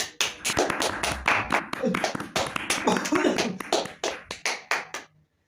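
Classroom clapping from a group of students, loud and close, with rapid overlapping claps in uneven bursts that slow into a few final separate claps before stopping.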